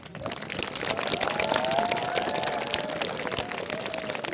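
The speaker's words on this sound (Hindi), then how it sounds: "तो तालियों के साथ जोरदार आवाज आनी चाहिए" A school audience applauds at a 31 December New Year celebration at Shivalic Public School, producing a steady, dense wash of many hands clapping that holds for several seconds, moderately faint, with crowd murmur underneath.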